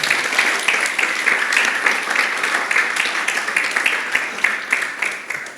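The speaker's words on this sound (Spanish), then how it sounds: "¿No le das un aplauso al Señor?" A church congregation applauds, a sustained, dense round of clapping that continues evenly for several seconds with a faint voice beneath it.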